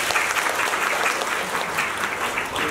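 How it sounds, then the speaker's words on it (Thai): Audience applause fills the room at the opening ceremony of the 7th Prachuap Khiri Khan Shrimp Day in Thailand, a dense, even clapping that continues loud and unbroken throughout. "ขอเสียงปรบมือ"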